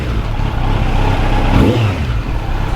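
A Kawasaki Z900 SE motorcycle with its stock bread-box airbox runs loud and close, its engine note swelling briefly in a short rev before settling back.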